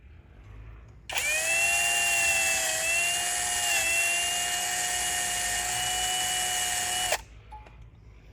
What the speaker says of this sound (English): I get my next size bigger drill and drill it next size bigger drill hole